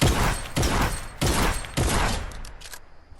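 Shotgun blasts in Fortnite gameplay, four heavy booming shots roughly half a second apart, each with a short decaying tail, followed by quieter mechanical clicks of reloading.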